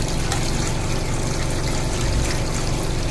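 Water running over a dirty basket as it is washed out, a loud, steady rushing splash at close range that never lets up.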